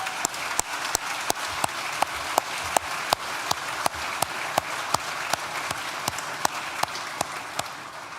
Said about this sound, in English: so I think another round of applause for Ria on that.